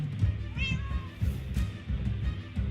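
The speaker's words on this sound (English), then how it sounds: "Is that her cat, I'm guessing?" A cat meows in Minecraft: Story Mode, a short rising cry over steady low background music and game sounds.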